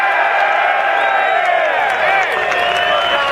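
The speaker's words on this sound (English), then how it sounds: "We have never seen a crowd like this here in Albany." A large crowd at a Second Amendment gun rights rally in Albany, New York, cheers and whoops loudly, a dense, sustained roar of voices with shrill whistles layered on top.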